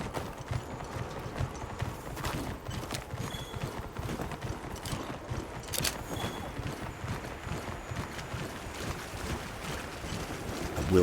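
Steady clip-clop hoofbeats of a horse-like mount walking over ground in Monster Hunter Wilds, a continuous rhythmic plodding that runs for the whole stretch at moderate loudness with faint ambient background.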